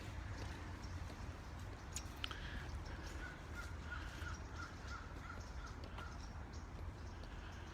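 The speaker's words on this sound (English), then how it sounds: "When you hear the birds," Crows caw in a series of repeated calls, distant and faint, over a steady broad outdoor background hiss with a few other bird sounds.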